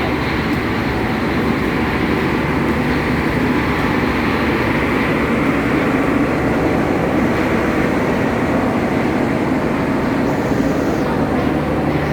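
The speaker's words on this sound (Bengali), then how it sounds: "অনেক বড় ট্রেন, মানে একদম ছোট না," A long train at Chatmohar railway station in Pabna produces a loud, steady rumble with a broad mechanical roar that stays constant throughout.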